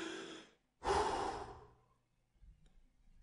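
Breath pushed into a microphone through a pop filter: a soft exhale, a short pause, then a louder, longer breath gust that fades, with faint rumble after.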